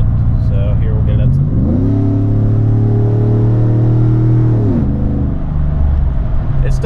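A Chevrolet Silverado 5.3 V8 with Pacesetter long tube headers rises into a deep droning exhaust note that holds steady for a few seconds, then drops back to a lower rumble, loud and close from inside the cab.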